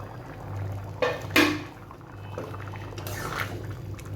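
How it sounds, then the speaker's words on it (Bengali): A pot of masala khichuri with lentils bubbles on the stove as its lid is lifted, with a brief metallic clatter over a soft continuous boil. "ঢাকনাটা খুলছি।"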